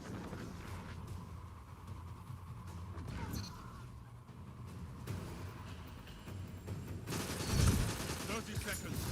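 In the video game Destiny 2, sniper gunfire and other weapon blasts crack over a busy, muffled background of game effects, with a louder burst near the end.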